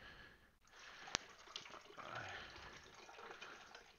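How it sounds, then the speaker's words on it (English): Water gurgling and trickling as a pot of coffee brews in a coffee maker, a faint indoor wash of bubbling liquid with a sharp click near the start, quiet and in the background. "So apologise for the weird gurgling sounds in the background."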